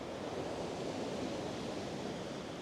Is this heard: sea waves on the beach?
yes